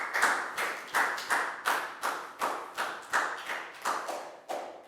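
A Year 4 maths class claps in unison for a student, about a dozen crisp, evenly spaced claps in a steady rhythm, close and loud in the classroom.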